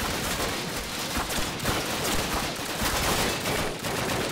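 Machine gun fire in Call of Duty, dense rapid bursts of automatic shots and surrounding gunfire filling the whole stretch, loud and close.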